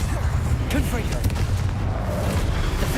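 The explosive Confringo spell is cast in Hogwarts Legacy during a fight, producing a steady series of booming magical blasts up close, while a voice calls out spell names over the noise.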